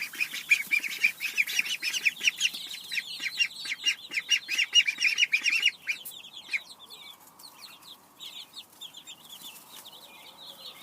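Pekin ducklings in a brooder peep in rapid, overlapping high chirps, a busy chorus up close, then thinning out into scattered calls and soft rustling.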